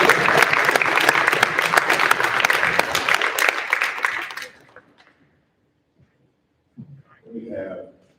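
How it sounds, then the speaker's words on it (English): An audience at an awards ceremony claps for an award recipient, a full round of applause that runs steadily for about four seconds, then fades and stops, followed by a short stretch of quiet and a brief murmur of talk. "give you a round of applause"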